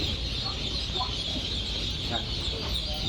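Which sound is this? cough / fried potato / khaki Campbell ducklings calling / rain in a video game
khaki Campbell ducklings calling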